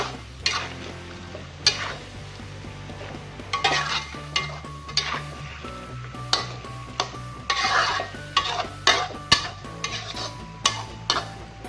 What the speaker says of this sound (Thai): ผัดให้เข้ากันเลยค่ะ